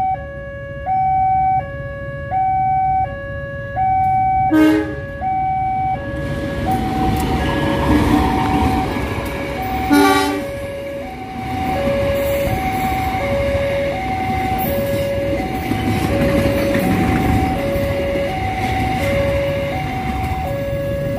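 The Batu Raden train rumbles past while its horn sounds in repeated two-tone blasts, loud and close, with the rolling noise continuing after the horn ends.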